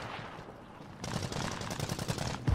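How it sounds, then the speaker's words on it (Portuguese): Bursts of rapid gunfire from the video game Call of Duty: Warzone kick in after a quiet second, continuing as dense overlapping shots with a sharp loud crack at the end. "Tô tomando tiro."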